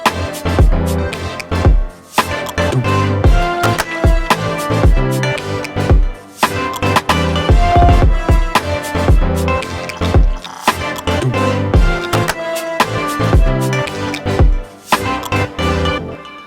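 Full song chorus with a synth line layered over drums, bass and other instruments, a loud, dense, steady groove with punchy regular beats and no voices.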